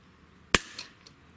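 A Sig Sauer 1911 trigger is pulled with a Lyman trigger gauge, giving one sharp, close metallic snap followed by a fainter click.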